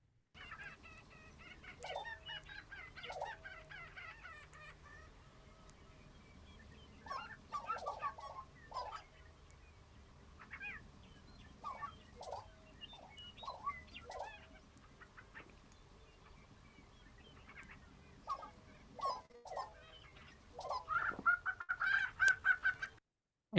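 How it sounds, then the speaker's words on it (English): Lesser prairie chickens dancing on a lek give repeated short bubbling, gobbling calls and higher cackles in scattered bursts over a steady low background, several birds calling near and far, growing busier and louder toward the end. "Here's a dance of lesser prairie chicken."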